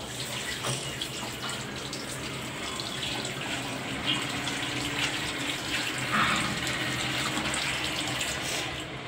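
Excess water drains and trickles out of a lotus pot on a balcony, a steady close splashing pour like a running tap that continues unbroken without speech.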